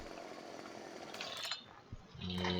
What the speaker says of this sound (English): I will make do with just a chainsaw